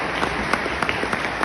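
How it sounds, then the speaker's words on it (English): Audience at a company anniversary event gives short, moderately loud applause, dense even clapping throughout. "Yeah, you can applaud, please."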